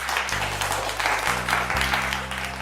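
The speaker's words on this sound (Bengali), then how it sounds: "এরা জোরে হাততালি হয়ে যাক।" Loud, steady applause for a team at a quiz-style competition, continuous clapping from a room of people with a low musical tone droning underneath.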